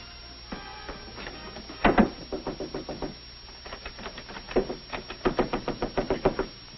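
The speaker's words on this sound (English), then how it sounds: "Stop knocking at that door." Repeated knocking on a wooden door in a 1937 film comedy scene, loud, sharp raps in several quick bursts, a cluster of heavy blows followed by more rapid, even series of knocks.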